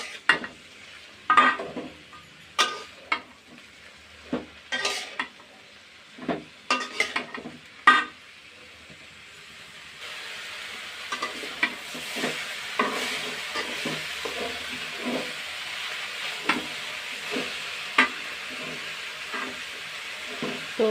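Vegetables for a Chinese-style vegetable dish are stirred and tossed in a wok with salt added, producing a steady frying sizzle with repeated scraping and clattering strokes of the utensil against the pan, close and moderately loud.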